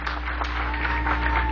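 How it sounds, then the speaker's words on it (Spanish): Brief, fairly soft applause from a church congregation during a sermon, a short wash of clapping over a low steady hum. "Le damos un aplauso a nuestra hermana"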